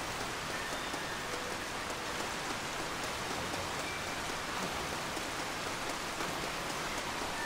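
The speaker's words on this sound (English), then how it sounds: "Wait, is it starting to rain?" Steady rain falls in the video game Red Dead Redemption Undead Nightmare, a dense, even hiss of drops on surfaces that continues unbroken at moderate volume with no voices.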